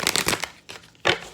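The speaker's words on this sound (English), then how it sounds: "let me go ahead and shuffle your cards and see what pops out" Tarot cards shuffled by hand: a few quick riffling bursts at first, then two more separate flurries of papery flicking after short pauses, close and fairly soft, with no talking.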